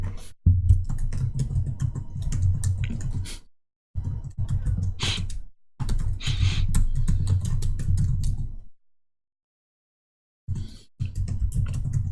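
Close, fast typing on a computer keyboard in dense bursts of key clicks, broken by a few short pauses.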